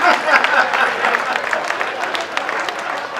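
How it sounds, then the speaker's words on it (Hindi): An audience claps at a Hindi comedy poetry recital, a dense patter of many hands that swells at the start, then carries on steadily with some voices mixed in. "भाई तालियां कम बजाइए आप लोगों ने, जरा एक बार भरपूर बजाने दीपक के लिए"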